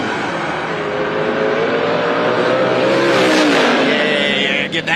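Drag race car of nearly 600 cubic inches at a time attack event, engine revving loud and close, rising in pitch and swelling over a few seconds before cutting off sharply.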